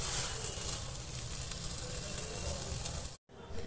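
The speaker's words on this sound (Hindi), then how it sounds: "हम इन सबको मीडियम फ्लेम पे ही भूनेंगे ताकि इसमें कच्चापन ना रहे" Masala paste fries in a pan over a medium flame with a steady, close sizzle that holds evenly before a brief cutoff near the end.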